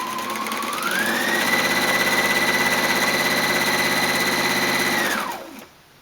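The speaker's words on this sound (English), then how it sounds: "I layer my light triangle onto my dark triangle and sew down the right-hand side of the shape." A sewing machine stitching layered light and dark fabric triangles for a quilt runs at a steady fast whir with a rapid needle rhythm, speeding up early and winding down near the end, close and alone.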